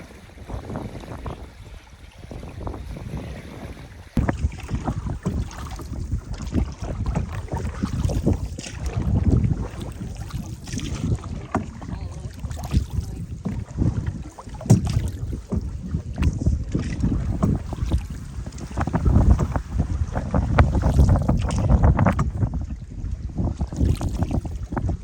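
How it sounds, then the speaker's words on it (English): Strong wind buffets the microphone in loud gusts while a canoe is paddled along the shore of a lake, with splashing water and rumbling wind noise throughout and no speech. "Now the wind's nice and picked up."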